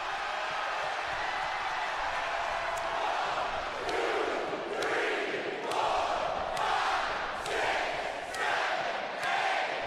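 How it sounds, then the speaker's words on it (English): Large WWE Monday Night Raw arena crowd roaring and cheering, a loud sustained wash of voices with rhythmic surges and sharp stomps or claps punctuating it every second or so. "Crowd's great."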